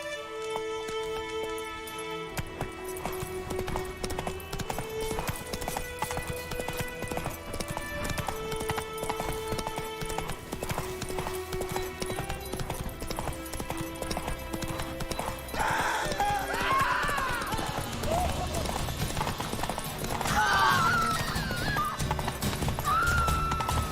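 A horse ridden in the video game The Witcher 3 gallops with steady rhythmic clip-clop hoofbeats and occasional neighs, continuous and clear over game music, growing louder near the end.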